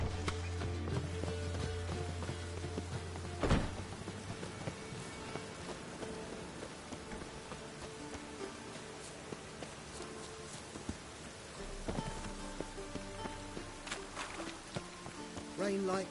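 Rain falling in The Witcher 3, a soft continuous patter under game ambience, with hooves clip-clopping, footsteps and occasional sharp clicks and thuds, fairly quiet overall.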